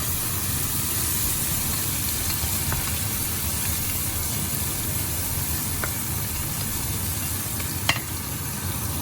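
Fenugreek seeds and garlic sizzle in hot oil in a pan for a Mannar-style crab curry, a loud, steady hiss that runs without a break, with a few faint clinks of a spoon, no voices.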